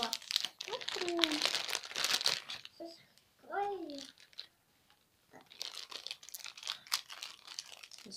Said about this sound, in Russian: Вот такой пакетик откроем.